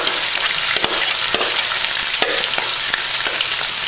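Onions and bell peppers sizzle loudly in a hot pan, a dense continuous hiss broken by sharp taps and clicks of stirring.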